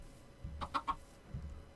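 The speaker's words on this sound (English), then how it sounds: "Good job, little chickens." Chickens in the Minecraft video game cluck in a few short, faint calls, one quick burst of clucks followed by a softer call, with no talk over them.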